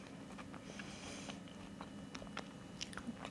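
Someone bites and chews crunchy peanut butter energy balls, giving a run of close, crisp crunches and scattered snaps that grow sharper toward the end, with no talking.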